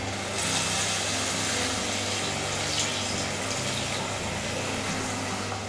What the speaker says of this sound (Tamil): கொஞ்சம் போல் இதில் தண்ணி சேர்த்துக்கலாம்.